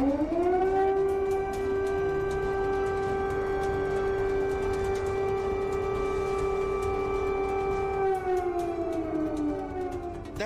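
An air raid siren in Moscow during the Russia-Ukraine war wails steadily at one sustained pitch for several seconds, then winds down near the end, loud and unbroken.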